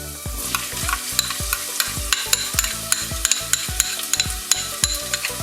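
Garlic and onions sizzling in generous olive oil for Greek-style shrimp souvlaki, a continuous close crackling fry punctuated by regular rhythmic scraping and knocking as a spoon stirs the pan, no voices present.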